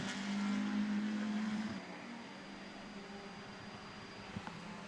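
Racing cars, including a Caterham 310R, pass on a circuit at a Classic Sports Car Club meeting, one whining engine fading away quickly and leaving a faint distant drone of others behind.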